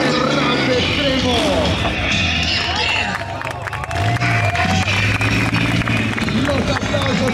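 Crowd applause and cheering at a Triumph motorcycle freestyle show, a steady dense roar of clapping and voices with an announcer talking over it and engine-like tones underneath.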